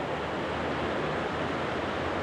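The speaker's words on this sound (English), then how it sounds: "And there's the creek." Creek water flowing steadily in Clear Creek Canyon, a dense continuous rushing wash that stays even and fairly loud throughout, with no voices.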